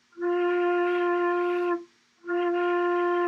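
A beginner's flute playing a note with the typical wrong sound: two sustained, breathy, reedy tones separated by a short pause, played alone and close.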